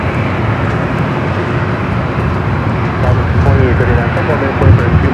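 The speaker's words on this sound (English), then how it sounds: "737-900 ER followed by Cathay Pacific, the 777-300 ER" Jet airliners, including a 737-900ER and a Cathay Pacific 777-300ER, at Los Angeles LAX airport: a steady, loud broadband engine roar that swells slightly toward the end, with talk over it.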